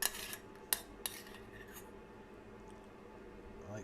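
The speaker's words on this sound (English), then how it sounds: "I just want to scoop all those capers and prawns" Metal spoon clinking and scraping in a pan while scooping capers and prawns through warm brown butter, a few sharp clicks early on then quiet stirring.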